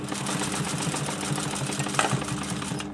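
A sewing machine stitches an upholstery cushion cover, a loud, close, steady mechanical whirr with a rapid even stitching rhythm and one brief clack near the end.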